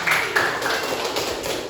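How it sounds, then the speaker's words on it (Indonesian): Scattered hand clapping from a class of student teachers at the end of a history lesson, a steady patter of close applause lasting under two seconds. "Tepuk tangan dong buat kita semua."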